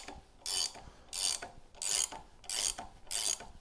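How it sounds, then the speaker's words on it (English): Two ratcheting gear wrenches turning to press a suspension bushing into place, five evenly spaced bursts of rapid clicking with quiet pauses between them, close and moderately loud. "we're just gonna grab 2 of my gear wrenches"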